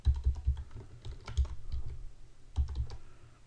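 Someone types Java code on a computer keyboard, with quick bursts of close, crisp key clicks and short pauses between.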